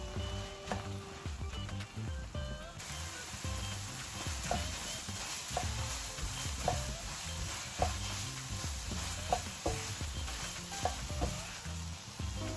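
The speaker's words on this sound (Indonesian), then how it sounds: "Jadi harus sering-sering diaduk." Pineapple jam for nastar cookies cooking in a pan, with a spoon stirring and scraping through the thick, sizzling mixture in repeated, regular strokes, close by and with no talking.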